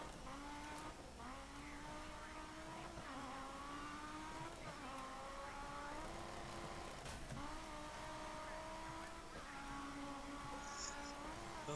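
An Audi Sport Quattro rally car in DiRT 3 pulls away, its engine revving through repeated rising gear pulls with shifts every couple of seconds, loud and continuous with a raspy exhaust tone.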